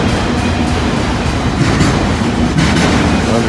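A long train rolls steadily past at close range, a continuous loud rumble of railcars with faint wheel clatter and no voices.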